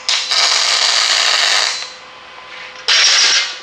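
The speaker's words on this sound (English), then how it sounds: "The nice thing is I can just tack it with the MIG." MIG welder tack welding metal: two loud, close bursts of crackling, hissing arc, the first about two seconds long and the second shorter after a brief pause.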